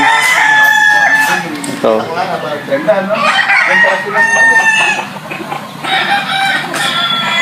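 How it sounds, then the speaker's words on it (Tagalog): Roosters crow repeatedly at the White Jacket game farm, several birds calling in overlapping bursts up close, with someone briefly speaking over them. "Mga ilan lang sa mga manok ni Boss Aga"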